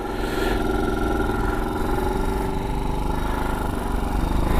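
A motorcycle engine runs steadily just after starting first time, a close, even mid-pitched drone at constant loudness with no talking over it.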